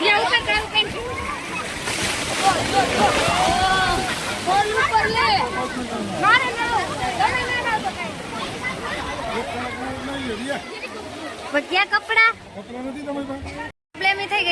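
Large sea waves surging and sloshing against the steps of Gomti ghat in Dwarka, a steady wash of surf close by, with a crowd's chatter and voices talking over it throughout.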